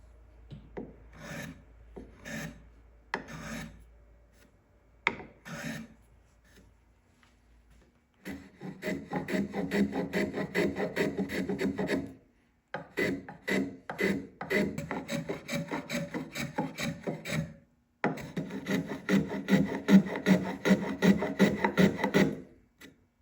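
Block hand plane shaving a wooden board by hand, no router: a few short isolated strokes, then long steady rasping passes separated by brief pauses, close and moderately quiet.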